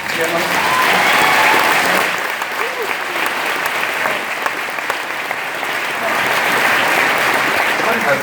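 Audience applause for Woodward and Bernstein swells loudly, eases for a few seconds, then builds again, with voices talking over the steady clapping.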